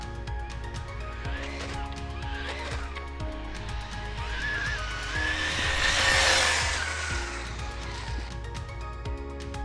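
A Traxxas Slash 4x4 RC car with stock gearing (54-tooth spur, 13-tooth pinion) and a center differential launches: its electric motor whine climbs sharply and peaks with tire scrabble over a rumbling outdoor background.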